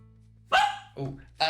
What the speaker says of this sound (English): please no barking, thank you